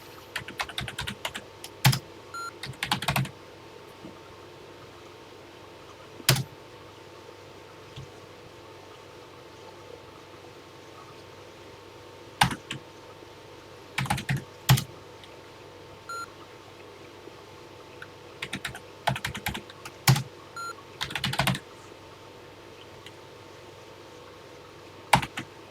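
Typing on a TI-99/4A home computer keyboard while entering a TI BASIC program: scattered bursts of close key clicks with pauses between, over a steady low hum.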